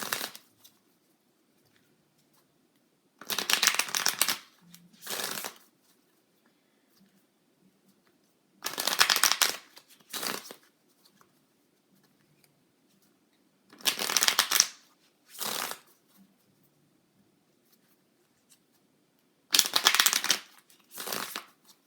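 Tarot cards shuffled by hand in four separate bursts, each a quick riffling rush followed by a shorter second pass, close and clear with quiet pauses between and no talking.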